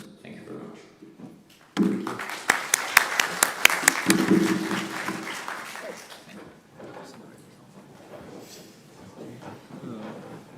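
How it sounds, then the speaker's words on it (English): Applause for two guests at the close of a policy discussion on Russia's aggression against Ukraine, starting abruptly with sharp, uneven claps that soon thin into scattered clapping under talk. "let's just have both our guests with a round of applause as well"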